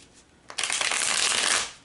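A deck of tarot cards is riffle-shuffled on a tray, a brief soft tap followed by a rapid, close fluttering burst of cards lasting about a second before it fades.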